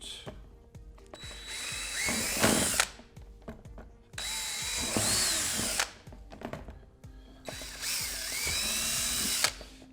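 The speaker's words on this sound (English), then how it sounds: "we're going to use a 3/16 bit and drill those out" A power drill with a 3/16 bit whines in three separate bursts through a plastic speaker pod panel, each lasting a couple of seconds, with quiet gaps between them and some rattling as the bit cuts through.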